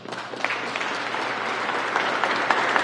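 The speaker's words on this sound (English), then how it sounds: "And the applause are for you that do this work." Sustained audience applause fills a press conference room, a steady dense wash of many clapping hands with a few sharper claps standing out near the end.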